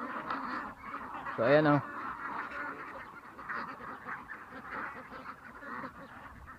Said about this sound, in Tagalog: Ang daming itik.